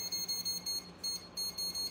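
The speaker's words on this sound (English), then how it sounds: "So I'm going to use my little timer here." A small kitchen timer gives a quick series of short, evenly spaced high beeps while its minutes are set, close and fairly soft in a quiet room.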